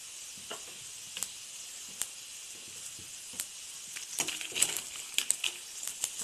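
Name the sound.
whole garam masala spices sizzling in hot oil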